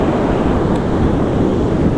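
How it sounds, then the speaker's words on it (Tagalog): Big ocean waves crashing, a loud continuous roaring wash with heavy wind buffeting the microphone, no talk. "Ngayon, nakakita ka na mga ganyan kalalaking alon."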